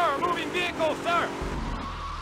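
A vehicle in GTA Vice City drives and skids. A low engine rumble with a rough tire drag rises after shouted voices end and carries on, close and steady, to the finish.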